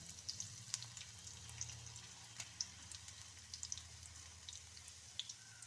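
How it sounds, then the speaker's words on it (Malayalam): Dried red chilies crackling in hot oil right after mustard seeds, a steady close sizzle with scattered sharp pops and spits throughout. "കടുക് പൊട്ടി തീരുമ്പോഴത്തേക്ക് നമുക്ക് മുളക് ഇട്ട് കൊടുക്കാം"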